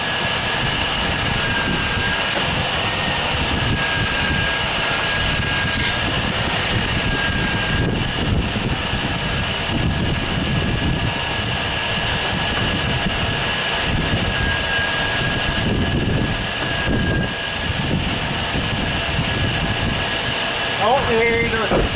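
Continuous engine roar of a 1999 GMC 1500 4x4 pickup running after an alternator replacement, steady and loud throughout, with people talking over it.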